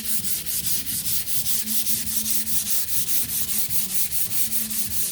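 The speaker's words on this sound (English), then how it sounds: "now I'm going to start giving it a sand. So I like to sand up and down, but with the grain" Sandpaper rubs back and forth along the grain of a painted wooden sign, about twenty quick, regular rasping strokes close by and loud, with no talking.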